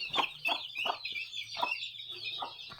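A country hen with chicks clucks close by in a series of about six short, evenly spaced clucks over a faint high chirping background.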